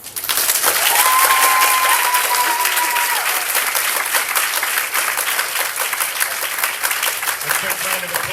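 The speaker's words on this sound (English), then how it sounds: "A quick round of applause again." Audience at a senior athletics farewell dinner applauding steadily, dense sustained clapping from a room full of people, with voices and a brief whistle-like tone rising through the crowd noise.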